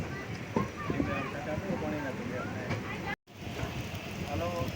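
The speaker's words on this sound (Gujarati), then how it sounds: "ધોળા જંકશન પહોંચી ગઈ છે ટ્રેન તમે જોઈ શકો છો વરસાદ ફૂલે ફૂલ ચાલુ છે" Heavy rain during a train journey, a dense steady hiss of rainfall and wind noise with a voice talking over it, cut by a brief dropout near the end.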